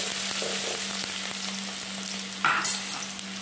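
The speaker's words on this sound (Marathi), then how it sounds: "आता मी कढीपत्ता टाकून घेते, तेल गरम झालेलं आहे, त्याच्यामध्ये कांदा टाकते।" Onion frying in hot oil with curry leaves, a steady close sizzle with a steady low hum beneath and a brief louder crackling burst partway through; no talking.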